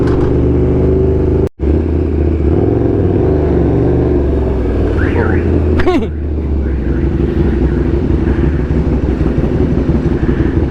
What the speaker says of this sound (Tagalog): nakakahiya yung iingay ng motor